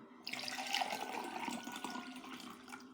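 A vitamin drink poured into a glass, a continuous liquid splash and gurgle lasting a few seconds, close and fairly quiet.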